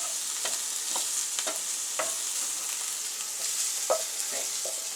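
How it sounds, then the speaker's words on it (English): Shrimp fry in an oiled pan with a steady bright sizzle, broken by occasional soft stirring taps and scrapes, close by and with no voices. "you're just going to cook the shrimp just until it just goes opaque"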